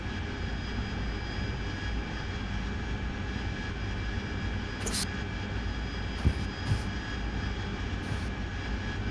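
An AV-8B Harrier jet engine in the DCS flight simulator drones loudly and evenly throughout, with a few faint clicks and short beeps over the roar.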